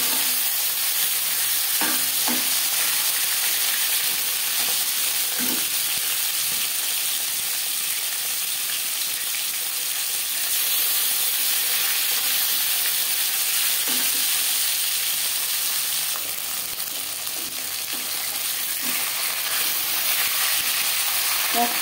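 Rohu fish pieces fry in a wok with a continuous close sizzle, punctuated now and then by soft clicks and scrapes of a spatula.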